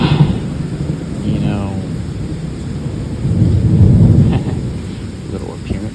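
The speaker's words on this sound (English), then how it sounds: "Lightning strike, confirmation." Thunder from a lightning strike rolling as a low, rumbling swell that builds and fades, under steady rain and a faint background hiss, with a voice speaking briefly over it.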